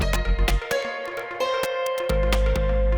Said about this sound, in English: You can hear that little vocal echo in the background.